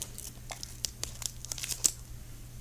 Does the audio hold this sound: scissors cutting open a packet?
yes